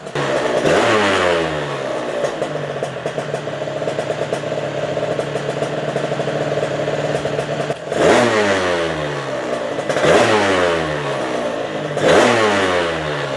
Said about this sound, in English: She's idling nice and pretty sounding.